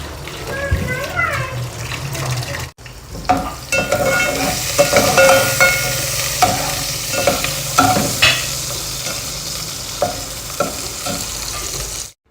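Chopped potatoes are added and stirred into rice in a pot, with clattering stirs and a wet, sizzling hiss running throughout, close and fairly loud.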